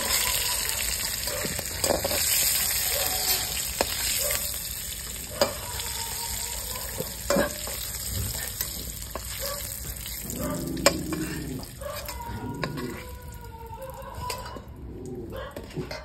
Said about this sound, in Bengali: ফুলকপি হালকা করে ভেজে নিয়েছি, এবার তুলে নেবো